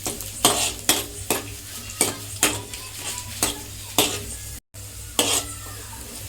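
Food, including peanuts and raisins, fries softly in a pan on low gas while a utensil stirs and scrapes against the metal in repeated, evenly spaced strokes, with a faint sizzle underneath.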